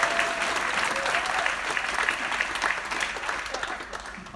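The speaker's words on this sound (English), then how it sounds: "we need to give the cleaners a great big round of applause" Sustained applause from a crowd, dense clapping throughout with no pauses, fairly loud and steady from start to finish.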